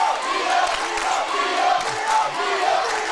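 A packed gym crowd roars steadily at a high school girls basketball game between North Lamar and Dallas Lincoln, a dense, loud wash of cheering and yelling that holds without a break.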